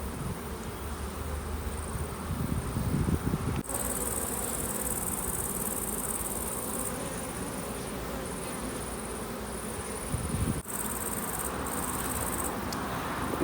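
Honeybees hum steadily around an open beehive while frames are worked, a dense continuous buzz that never drops out, with a few brief knocks of handling cutting through the drone.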